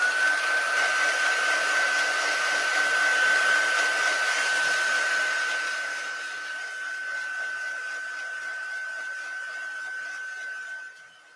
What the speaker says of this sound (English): I'm just going to give it that last quick touch with the heat tool.